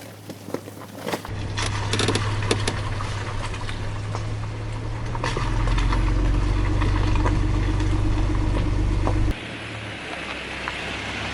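A Jeep JKU engine runs on a backwoods trail, a steady low mid-range drone that swells louder partway through, with crunching and rattling over rough ground before dropping to a quieter hum near the end.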